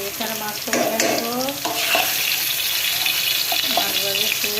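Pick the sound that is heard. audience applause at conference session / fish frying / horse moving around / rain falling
fish frying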